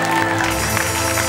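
Loud applause from a comedy show audience blending with a busy, droning background, dense and continuous throughout.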